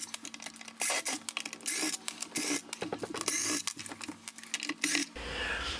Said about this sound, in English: you'll need some sort of battery-powered tool